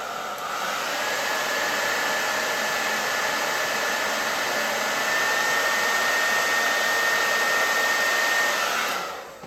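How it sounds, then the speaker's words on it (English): A hairdryer blowing close and steady for about nine seconds to set freshly applied makeup, with a constant airy whoosh and a faint motor whine that cuts off at the end. "So before I set them, I'm going to use my hairdryer."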